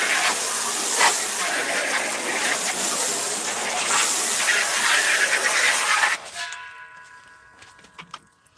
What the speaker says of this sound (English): Rinse this table off real quick, y'all.